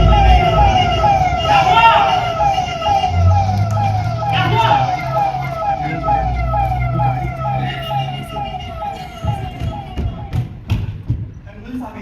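A loud wailing siren cycles repeatedly up and down close by, with a worried voice talking over it and a few thuds.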